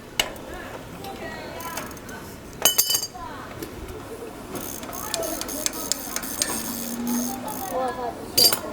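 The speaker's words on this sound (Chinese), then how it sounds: "我们现在拿到了一个专用的拆卸工具啊，我们正在使用活动扳手，" A freewheel is removed from a mountain bike's rear wheel with a dedicated removal tool and an adjustable wrench. Metal clinks and ratcheting clicks sound up close, with sharp clanks at intervals, while someone talks throughout.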